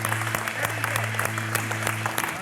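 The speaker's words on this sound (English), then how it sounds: "we got a lot of applause" Audience applause for a restored 1971 Plymouth Cuda at its unveiling, steady clapping from a nearby crowd over a low engine-like hum, with a few louder individual claps standing out.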